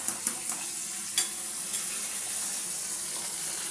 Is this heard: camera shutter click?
no